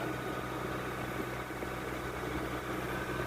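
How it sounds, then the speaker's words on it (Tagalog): A Nissan Calibre engine with a throttle delay and poor pulling power runs at a steady idle, a constant close mechanical hum with no clear revving. "kailangan maramdaman nyo yung tunog ng makina,"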